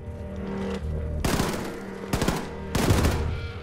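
Gunfire in the shooter game Wolfenstein II: The New Colossus, three sharp bursts of rapid shots in quick succession, loud and close against a quieter game background.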